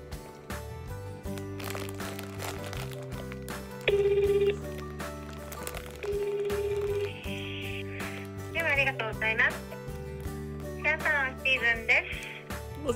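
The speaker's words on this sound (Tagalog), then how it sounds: "Tawagan natin." A telephone is dialed to call a barber, giving two short steady tones over background music, with voices talking in the room.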